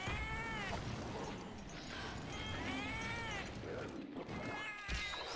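Cats in a video game meow and yowl in long rising-and-falling wails, several calls overlapping against a faint mechanical ticking, fairly quiet and with no talking.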